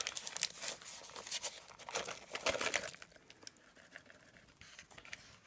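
Fresh yeast being unwrapped from its paper wrapper, heard as close, busy crinkling and tearing of paper for about three seconds, then fading to quieter rustles, with no talk.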